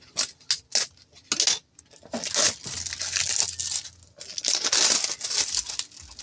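Plastic packaging of a Kusky FS200 dynamic microphone being unboxed: loud, close crinkling and tearing with sharp rustles in irregular bursts, and no talking.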